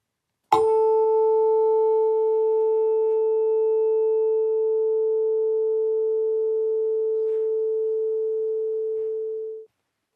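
A tuning fork is struck once and rings with a pure, steady tone that sustains for about nine seconds, fading only slightly before cutting off.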